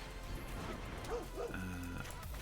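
A short video-game dog bark effect plays as a dog card is put down in a fantasy card game, a couple of yips over faint background game music.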